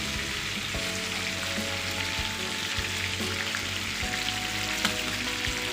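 Marinated chicken pieces for biryani sizzle and fry steadily in a pan, a dense close crackling hiss with occasional pops and stirring, continuous throughout with no voices.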